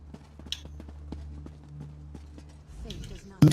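Horse hooves clip-clop in Elder Scrolls Online as a mount is ridden, a steady run of light, evenly spaced hoof taps mixed with game sounds and someone talking over them, ending in a sudden louder thump.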